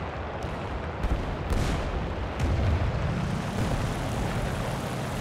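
Rapid 20 mm cannon fire from a La-7B-20 fighter in War Thunder, a dense rumbling burst over steady engine drone, with louder surges of firing around the middle of the stretch.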